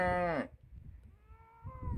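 Cattle moo on a grassy stretch of the Wales Coast Path near St. Brides Wentlooge: one loud, close, drawn-out low call, then a fainter second moo starting near the end.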